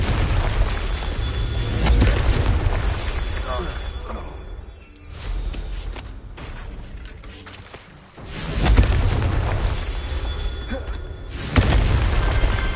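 Confringo blasting curse explosions in a Harry Potter video game, deep booming blasts and rumbling thuds surging and fading in waves amid game music, with a voice speaking over them.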